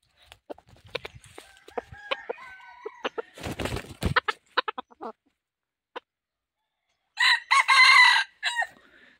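A rooster crows loudly near the end, after scattered clucks, chirps and shuffling noises from nearby fowl.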